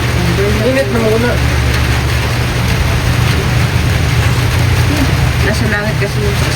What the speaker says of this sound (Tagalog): Ulan-ulan.